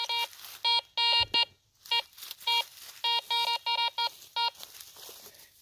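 Metal detector sounding a signal over buried iron-bearing metal, a quick series of clipped, clear electronic beeps in uneven bursts, close and loud over faint rustling, with no speech.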